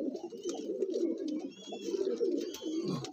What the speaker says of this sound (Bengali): এই হচ্ছে পায়রাটা।